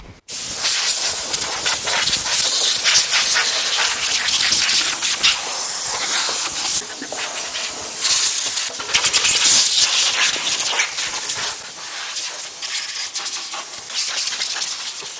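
Compressed air blasting over engine bay electrical parts after washing, a loud, harsh continuous hiss that surges and fades in bursts, close up with no voices.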